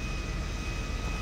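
A steady, droning jet engine roar from the video game GTA Online, with a faint high whine, constant and unbroken throughout, no talking.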